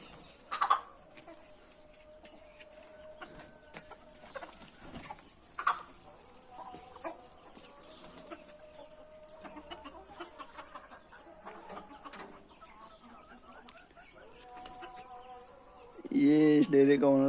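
A flock of about 200–250 chickens, including the Leather breed and young chicks, clucking and calling at a farm enclosure, with scattered cackles and bursts amid a quiet background and louder calls near the end.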